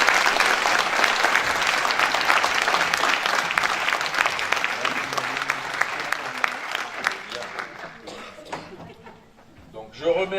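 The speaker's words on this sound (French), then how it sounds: "Je crois qu'on peut les applaudir tous ensemble." An audience at a town New Year's ceremony applauds local champion sports teams, a dense burst of clapping that fades out over about ten seconds.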